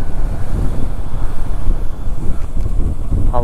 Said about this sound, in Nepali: हावा चलिरहेछ यो खाले